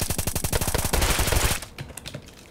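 Rapid automatic gunfire in the video game Apocalypse Rising 2, a loud close burst of evenly spaced shots lasting about a second and a half, then a few scattered fainter shots trailing off.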